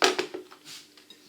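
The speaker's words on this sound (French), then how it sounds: "Et maintenant, justement, on va reprendre" Metal saucepan handled on a kitchen stovetop while making aligot, the French potato and cheese purée: a few quick clanks and knocks close by, then a softer scrape, alone without talk.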